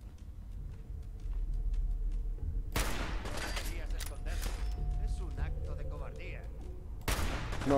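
Gunfire in the video game Fallout 4, sharp bursts of shots in quick volleys, loud and close, with a player talking intermittently.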